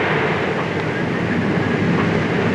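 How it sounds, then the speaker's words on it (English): A passenger train travels through the night across New South Wales in the 1970s, making a steady, dense rolling rumble with no distinct clacks or voices over it. "Through the night, the train heads on across New South Wales towards the east coast."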